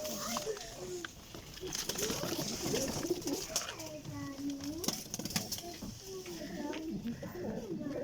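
Golden pigeons coo in low, repeated throaty calls close by while someone speaks over them.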